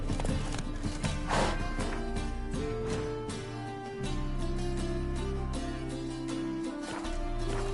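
The horse Roach galloping in The Witcher 3, rapid hoofbeats running under a steady layer of game music, continuous and moderately loud.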